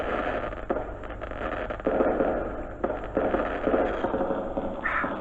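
Cartoon fireworks burst in quick succession, a dense run of loud crackling booms and pops layered over one another with brief gaps between volleys, with no talk during the display.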